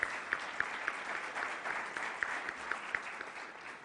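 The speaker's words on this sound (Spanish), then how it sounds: "Vamos a darle un aplauso muy fuerte al licenciado Guillermo" An audience at a university event on social responsibility claps for a speaker being introduced, a moderate, fairly distant patter of applause with a few sharper individual claps.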